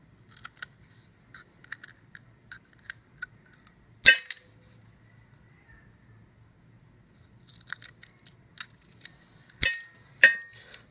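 Popsicle sticks snipped at an angle with scissors or cutters, giving sharp isolated clicks and snaps, including two louder cracks, over a low steady hum in a quiet room.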